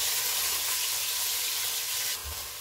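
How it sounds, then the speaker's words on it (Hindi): Chopped onions, two medium ones, sizzle steadily in hot oil in a pan, a dense continuous frying hiss with faint stirring, cooking for a biryani. "चॉप किए हुए 2 दरमियाने साइज़ के प्याज डालेंगे। इनको 2 से 3 मिनट तक भूनेंगे।"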